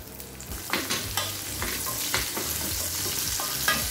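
Small shallots and cashews fry in a hot pan for sambar rice, with a loud, continuous sizzle and repeated sharp scraping stirs close by.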